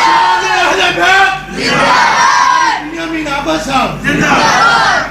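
A crowd chants religious slogans in unison at a religious speech, loud repeated surging shouts rising and falling in waves.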